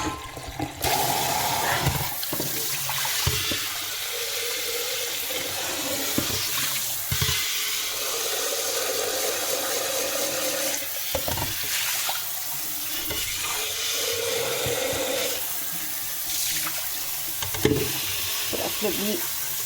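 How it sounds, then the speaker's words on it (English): Tap water runs steadily over a silicone slow feeder being rinsed in a sink, a continuous close rushing splash with brief clatters as the mat is handled, no talk. "first I rinse it off with water."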